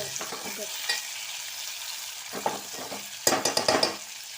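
Red fish sizzles and crackles in hot oil in a pan over medium flame, with occasional scraping and stirring clatter and a cluster of sharper spatters near the end.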